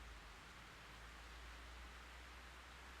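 Rain in the Fatal Frame III video game, a soft, even hiss of steady rainfall with no pauses or other sounds.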